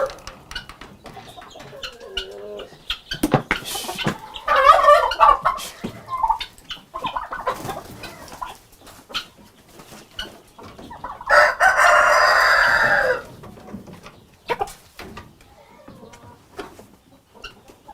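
Chickens clucking on a two-acre farm, with a rooster crowing loudly and close by in bursts. Someone talks intermittently between the calls.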